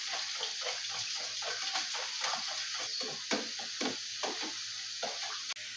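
A whisk beats eggs, milk, cinnamon, sugar and a pinch of salt in a bowl for French toast, making a steady rhythmic sloshing and clinking that is soft and close.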